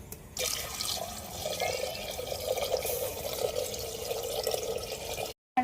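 Water poured into a clay pot for temple-style Odisha dalma, a steady close gurgling stream with trickling drips for several seconds before cutting off abruptly.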